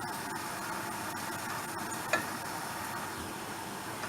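Onions frying in a pan for chana dal, a steady soft sizzle with faint ticking stirs and one brief clink, no voices.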